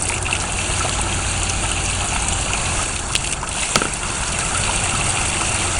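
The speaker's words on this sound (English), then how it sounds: "let me rinse my hands off. Rinse the brush off." Hands and a brush are rinsed under steadily running water, a loud continuous gushing wash with a couple of brief clinks, no talking.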